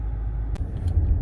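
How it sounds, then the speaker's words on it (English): A 2016 BMW M5 Pure Metal limited edition with 62k miles pulls away: a steady, close, low engine rumble runs throughout, broken by a couple of brief sharp transients near the middle. "I should drive the car a little bit too, just so you can know that it's actually working."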